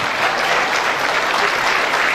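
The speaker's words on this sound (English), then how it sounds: "Please, that hand clap is not presidential enough." A crowd at an inauguration for a new chambers of commerce president claps in a continuous, dense burst of applause that holds steady from start to finish.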